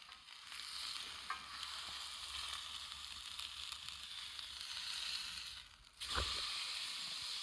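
A steak sears in a pan outdoors with a constant soft sizzle and hiss, broken by a brief louder crackle near the end.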